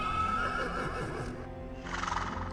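A horse whinnies loudly and close as a sound effect in a spoken horror tale, the long neigh fading into clip-clopping hooves.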